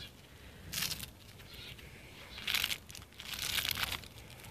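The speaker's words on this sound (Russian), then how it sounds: "сначала собираем все листочки. Вот эти сухие, чтобы на земле их не было" Dry fallen rose leaves are scooped up from garden soil in a few short, crisp crinkling rustles, faint and close, separated by quiet pauses.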